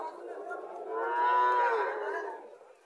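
A local cow at a cattle market moos once in a long, clear, rising and falling low call that sits close and fairly loud, while faint market noise continues behind it.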